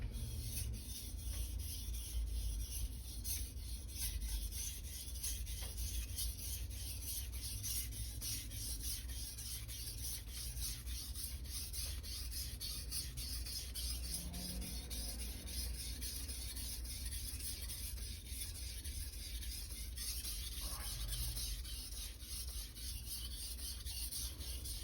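An SG2 steel Nakiri knife is stroked across a Chosera/Naniwa whetstone in a continuous, even rasping rub, close and fairly quiet, with no talking.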